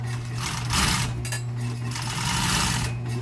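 Close, steady whirring of a sewing machine stitching around a custom pad, a continuous mechanical hum with a faint rhythmic needle clatter, no voices.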